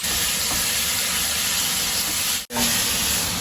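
Food browning in a hot oily pan during Mexican-style cooking, a loud steady close hiss of sizzling that runs without a break apart from one short cut.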